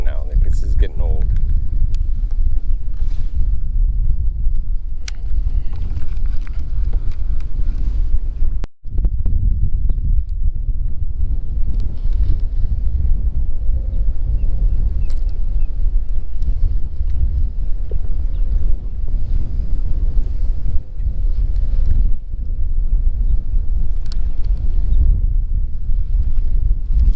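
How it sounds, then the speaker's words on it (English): Steady wind buffets the microphone out on a fishing boat in the evening, with a continuous low rumble and gusty noise running throughout and one brief dropout partway. "We just need the wind to start to calm down now."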